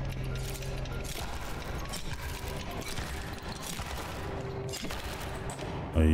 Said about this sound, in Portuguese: Começar a dar tiro nas coisas aqui pra treinar.